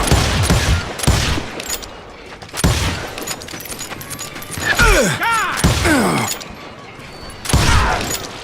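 Gunshots from hired shooters in the Call of Juarez video game crack out in loud bursts, some close and sharp, with ricochet whines and debris in between.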